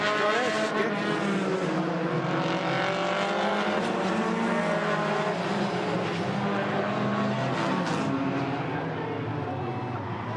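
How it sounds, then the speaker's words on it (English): Hornet-class race cars roar around the road-course layout at Agassiz Speedway in British Columbia during an enduro, a loud, steady layered engine drone of several cars at speed, continuous and close, with an announcer calling the action over it. "Number 15, Marco Rizzo, out to an early lead. 67, Billy Coles, right on his tail with the 30 car"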